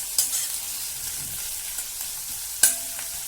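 Spices for a spicy crab curry fry in a pan with a steady close hiss and sizzle, broken by a few sharp clicks of a spatula scraping and stirring; no one speaks.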